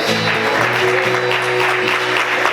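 Sustained congregation applause during a church sermon fills the whole stretch, steady and fairly loud, with a low musical drone held underneath.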